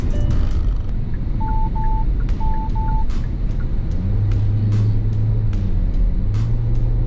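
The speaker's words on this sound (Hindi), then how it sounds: "आपने सुनी बीप, ये बेसिकली इसी की बीप है कि साइड से कोई गाड़ी आई" Inside a moving 2022 Hyundai Tucson, the blind spot warning chime sounds in two pairs of short, steady beeps over constant road and engine rumble.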